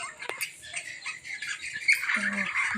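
Harsh, scratchy bird squawks and chatter from several small birds close by, with someone talking over them.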